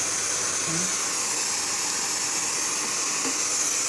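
Pressure cooker with moong dal and papaya, steady broadband hiss of steam, continuous and fairly loud, close by throughout with no talking.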